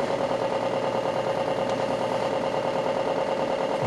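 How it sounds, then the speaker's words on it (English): Suzuki Hayabusa first-generation motorcycle engine running steadily just after the throttle is cut from the rev limiter, a continuous close, even drone with no talk. "Watch it hit the rev limiter, cut the throttle."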